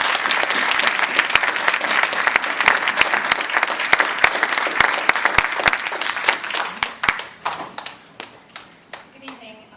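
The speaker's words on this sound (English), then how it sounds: "A big round of applause." A crowd applauds steadily, the clapping thinning out toward the end to a few scattered claps.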